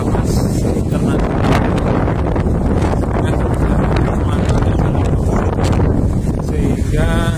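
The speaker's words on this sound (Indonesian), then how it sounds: "kencang sekali angin, udaranya sangat panas sekali, ombak yang besar" Strong wind gusting across Lake Sarangan during a storm with big waves, roaring as loud, constant buffeting noise on the microphone with rustling and water sounds mixed in.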